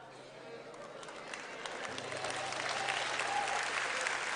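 A church congregation claps, applause swelling steadily from soft to full and dense, with crowd noise and an indistinct voice mixed in beneath a low steady hum.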